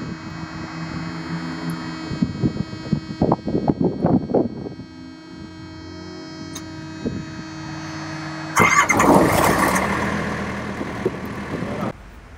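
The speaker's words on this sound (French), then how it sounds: "démarrage du moteur thermique, ça va faire du bruit" A refrigerated truck's diesel refrigeration unit engine rumbles into life with a sudden loud broadband roar that holds steady, after earlier clicks and mechanical knocks over a persistent hum.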